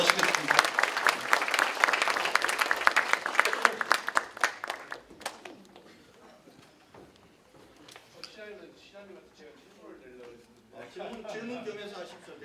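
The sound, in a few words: audience applause welcoming the university president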